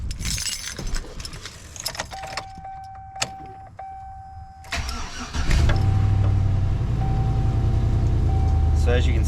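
A 2003 Chevy Silverado 1500 Z71 pickup with about 308,000 miles cranks and fires up after some key jingling and a chime, then settles into a loud, steady close-up idle.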